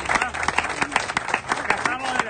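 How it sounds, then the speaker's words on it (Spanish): A small audience claps in a quick, uneven patter of close handclaps lasting a couple of seconds, with voices murmuring underneath. "un aplauso a la Bripa"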